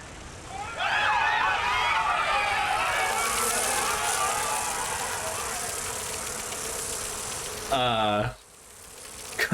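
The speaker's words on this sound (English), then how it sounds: "It's just bees. Just bees." Bees in Dragon Age: Inquisition make a dense, wavering buzz that comes up suddenly and holds for several seconds, then fades slowly before a short, different tonal sound cuts in and stops.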